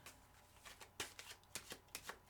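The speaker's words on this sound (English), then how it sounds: "So I've got this little way with my shuffling." Tarot cards shuffled by hand in a quiet room, a run of short papery riffles and slaps, about eight bursts in quick uneven rhythm, close and fairly soft with no talking.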